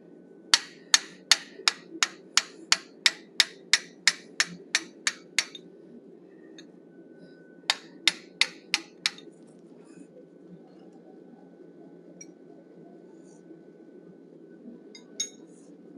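Hammer strikes on a 1/8 inch fuller flaring the outer ear of a forged wolf head, a fast run of about fourteen sharp ringing metallic blows, a pause, then a shorter burst of five and a lone final tap.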